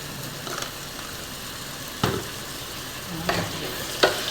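Crab curry sizzling steadily in a pan under a constant frying hiss, broken by a few sharp scrapes and clanks of a spoon stirring, close and moderately loud.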